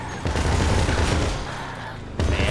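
Gunfire in the video game GTA 5 with a zombie apocalypse mod: loud, dense, rapid automatic shots in a continuous barrage that barely lets up.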